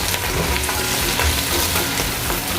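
Soft onions for beef pilau fry in a pan with a dense, steady, loud sizzle up close, while faint stirring scrapes come through it.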